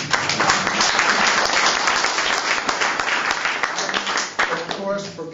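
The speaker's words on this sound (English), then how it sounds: "So a little applause for each." A room full of guests at an open day applauds steadily, dense clapping holding at an even level for several seconds before tapering slightly at the end, with a few voices murmuring underneath.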